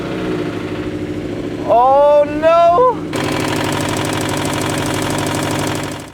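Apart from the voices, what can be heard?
2015 Subaru STI engine with rod knock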